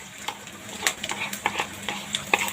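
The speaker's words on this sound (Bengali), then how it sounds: "মশলাগুলো এখন এভাবে ভেজে নেব।" Spice paste frying with onions in a pan, stirred briskly, with quick scraping and clinking strokes of a spoon over a soft sizzle, near and irregular in rhythm.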